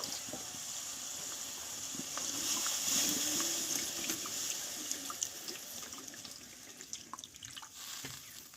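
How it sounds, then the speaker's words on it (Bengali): Water runs steadily into a pan of green bean curry with ground green chilli, mustard and poppy seed paste, a continuous close splashing gush ending with a few drips, with no voices. "এবার আমি পরিমাণ মতো জলটা দিয়ে দেব"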